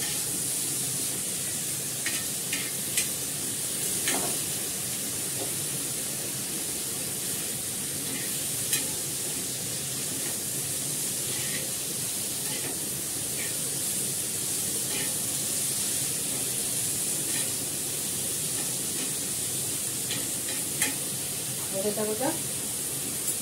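Neem leaves fry in a pan with a quiet, steady sizzle and occasional light stirring scrapes and clinks. A voice speaks faintly in the background.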